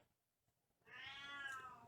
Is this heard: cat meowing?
yes